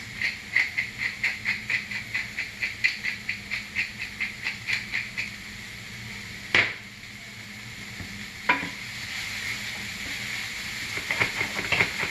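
Egg and tofu scramble frying in a pan, a rhythmic pulsing hiss as it is stirred steadily, followed by a few sharp scrapes and a continuous sizzle, with no talk.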